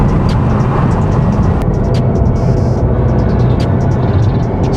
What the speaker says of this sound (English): I'm going to shift into manual gearing and control the transmission with the paddle shifters here.